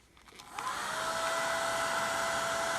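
A hair dryer blown over fresh acrylic pour paint spins up after half a second into a steady, close whooshing drone with a faint high whine, running alone without any talk.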